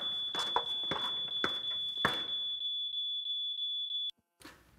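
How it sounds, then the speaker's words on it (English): Smoke detector sounding a sustained piercing electronic tone through sharp banging knocks, then cutting off abruptly near the end before faint clatter resumes; nobody speaks. "The smoke detectors are real."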